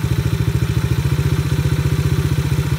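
A Chinese ATV engine idles at a raised speed, a fast, even chugging pulse that stays close and steady throughout, with no voices.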